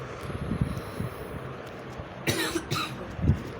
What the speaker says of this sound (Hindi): थोड़ी खांसी वासी है, इसलिए उसको इग्नोर करना।